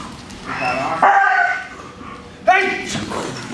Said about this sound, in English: still pretty impressive to see dogs this young, you know, gripping into a full body bite suit